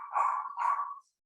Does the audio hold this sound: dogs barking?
yes